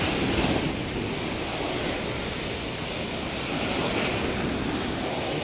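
Ocean waves surge continuously against a damaged concrete seawall on the coast, a loud, broadband roar of surf and wind with no break across the whole stretch.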